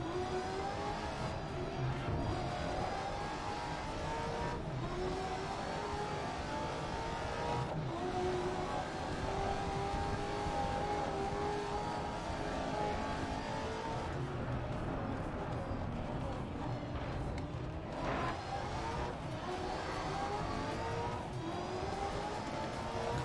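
Race cars in the Grid Legends video game, engines droning steadily at high revs throughout with occasional shifts and passing whooshes, loud and continuous.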